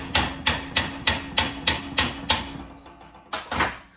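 A 2-pound hammer strikes a big chisel to bend a metal luggage tray flange held in a vise on a 1966 VW Beetle, a steady rhythm of sharp metallic blows, about eight hits, then a pause and two more closely spaced strikes.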